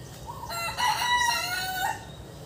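A rooster crows once, a long wavering cock-a-doodle-doo that is clear and fairly close, with steady background noise and no talking.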